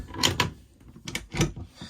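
A few quick wooden knocks and a sliding scrape as a storage drawer in a Swift Escape 694 motorhome is pulled and pushed shut, close by.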